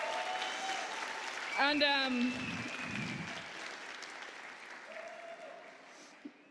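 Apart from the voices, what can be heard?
audience applause at awards ceremony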